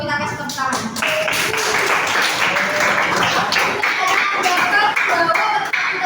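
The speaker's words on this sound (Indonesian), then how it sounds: "kita kasih tepuk tangan" Classroom applause from students at a vocational high school lesson, a dense steady patter of many hands clapping together, with some voices mixed in throughout.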